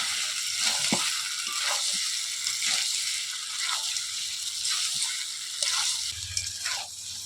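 Fried potatoes stirred into chicken frying in released oil, a continuous sizzle broken by repeated scraping strokes of a spatula against the pan.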